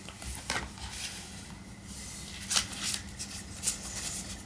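Tarot cards shuffled by hand, giving soft riffling and rustling with a few sharper flicks and snaps near the end, fairly close and quiet, with no talk over it.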